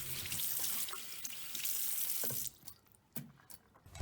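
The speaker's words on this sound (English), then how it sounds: "Make sure you wash your hands with hot water and some soap" A tap runs steadily close by while hands rub with soap under hot water, then the water stops, leaving a few drips and splashes.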